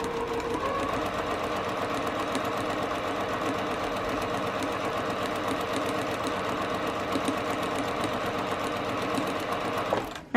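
Mechanical sewing machine stitching a quilting seam in fabric, a fast, even, continuous mechanical whirr and rapid needle clatter running steadily close up for about ten seconds before stopping abruptly.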